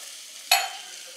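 A sudden hiss of hot oil tempering with sambar powder, one sharp sizzling burst that quickly fades against quiet background noise.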